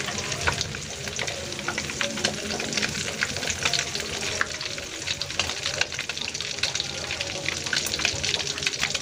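Rolled rice vermicelli with egg fries in heavily foaming oil that was used the day before for cilor. A loud, continuous sizzle is broken by crackles and scraping stirs throughout.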